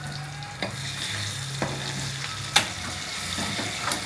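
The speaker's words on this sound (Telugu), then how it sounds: "కొంచెం బాగా రోస్ట్ చేసుకుందాం ఫ్రెండ్స్" Chicken skin roasts in a pan, giving a steady close sizzle broken by several sharp scraping knocks as a spatula stirs and turns it, the loudest stroke near the middle.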